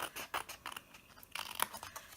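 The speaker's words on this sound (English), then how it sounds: "you're actually going to thin them out a little bit more with your scissors" Scissors snipping into card to thin out the arms of a handmade twist and pop card, a run of short crisp close cuts in quick uneven rhythm, with no talking.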